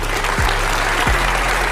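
A crowd at a religious gathering breaks into dense, loud applause that runs throughout the short stretch with no pauses, a thick steady roar of many hands clapping together.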